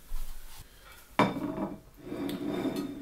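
A plate is set under a microwave egg boiler in a kitchen. A few clinks and scrapes of crockery are heard up close, with a sharp knock near the middle and softer rubbing after it. No one speaks.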